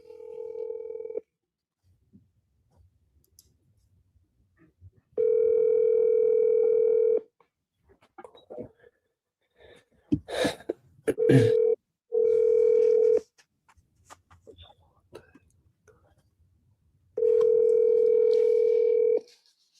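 An outgoing phone call rings back in long, loud, steady tones of about two seconds, separated by roughly three-second gaps, with brief clicks and rustling between rings and no talking.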